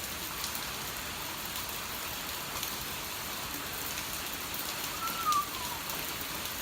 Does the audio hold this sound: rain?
yes